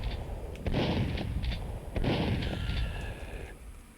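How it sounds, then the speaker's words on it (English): Two loud, booming grenade blasts from the Duke Nukem 3D shooter game, each a broadband burst with a rumbling tail, about 1.3 seconds apart and followed by a fading hiss, with no speech. "There's a grenade for your face"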